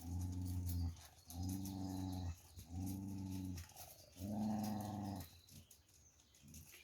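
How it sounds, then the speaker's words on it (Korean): Low, sustained growls from a four-eyed Jindo dog, coming in four long rumbling bursts separated by short pauses, close and fairly loud, followed by a brief quieter rustle at the end. "태백이 으르렁으르렁 거리니까"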